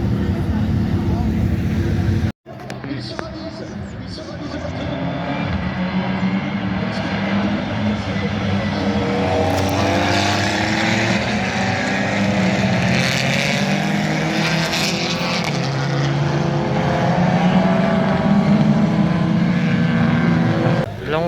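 Race cars at the Nogaro circuit in a French circuit-racing cup event roar at a distance, a continuous layered engine drone that swells and fades as cars pass, with talk over it.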